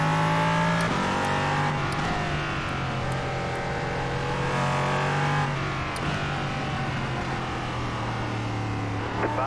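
An LMP3 race car in iRacing laps Zandvoort, its engine droning loud and close with steady high revs, shifting pitch through gear changes and braking.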